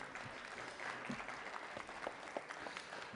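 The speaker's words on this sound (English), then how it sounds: "It's always good to get up here with an applause." An audience at a community update meeting applauds: a faint, even patter of many hands clapping, heard from a distance, with no voices over it.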